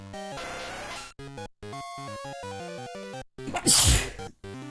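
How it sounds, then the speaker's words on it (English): Several sneezes in a row, close and loud, with musical tones and sound effects around them. "Why have I started sneezing uncontrollably at the end of this episode?"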